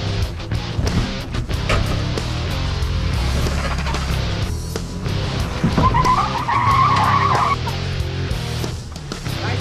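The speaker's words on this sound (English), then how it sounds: "Now I'm out here in the sand dunes just absolutely standing on the skinny pedal." A Ford Bronco Wildtrak in Baja mode driven at full throttle across sand dunes, its engine roaring steadily and loudly with revving surges and tires churning, close and continuous.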